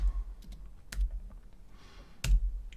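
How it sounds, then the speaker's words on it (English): A handful of sparse, separated key clicks on a computer keyboard, quiet and close over a low background hum. "I'll just type in cursor."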